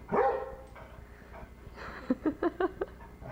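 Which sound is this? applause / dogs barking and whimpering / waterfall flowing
dogs barking and whimpering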